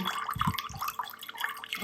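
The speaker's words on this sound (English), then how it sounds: "we're just going to let all the water drain out" Water drains out of a freshly repotted Brassavola Jiminy Cricket orchid pot filled with pumice, coming through as close, irregular drips and small trickles with no talking.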